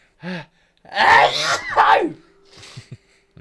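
A short vocal sound, then a loud, forceful sneeze with a sharp inhale and burst, followed by quieter breathy noises.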